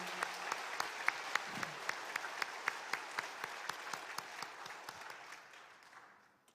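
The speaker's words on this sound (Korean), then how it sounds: "우리 하나님께 감사의 박수를 한번 크게 올려드립시다." A church congregation applauds after a hymn, a soft, distant mass of clapping with a steady rhythmic beat running through it that fades out near the end.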